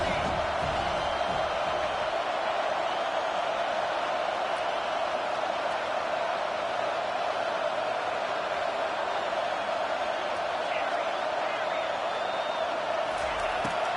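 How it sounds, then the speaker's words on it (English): A steady roar from a large stadium crowd at a college football game rises during a third-down defensive stand, loud and continuous throughout, with a broadcast commentator talking over it. "Decibels rising as the crowd gets behind this defense on 3rd down."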